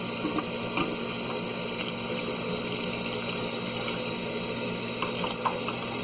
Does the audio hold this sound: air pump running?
yes